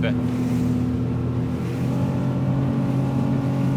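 A Ranieri International Next 275 SL motorboat with a stepped hull runs under power, its engine a steady loud drone with rushing water and wind throughout.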